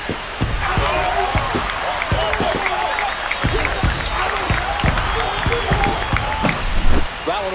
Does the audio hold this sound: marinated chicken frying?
no